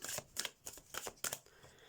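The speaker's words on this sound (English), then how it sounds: "We'll give one more shuffle." Quick riffling bursts of tarot cards being shuffled, about six soft flicks in a row, close and fairly quiet with no voices.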